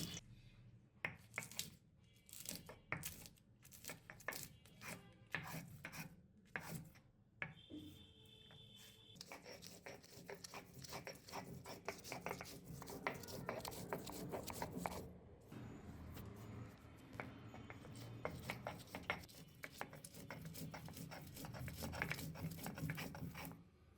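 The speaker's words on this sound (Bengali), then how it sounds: "এবার কাঁচা ও শুকনো মরিচ বেটে নিচ্ছি।" Green and dried chillies being ground by hand on a stone for chapri pitha batter, a faint repeated scraping and rubbing with irregular taps, continuing steadily and growing into a denser grinding toward the end.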